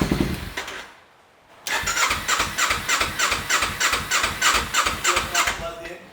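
A modified Kawasaki Ninja motorcycle cranks in a fast, even rhythm of loud, close starter pulses after a brief pause, with a squealing edge and the engine catching right at the end.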